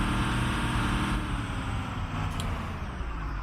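A 2002 FS65 school bus idles with its Cummins 5.9 diesel engine, a steady low rumble with a continuous drone, heard fairly close over constant background noise.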